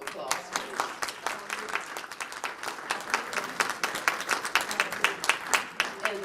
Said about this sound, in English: let's give our panelists a round of applause, please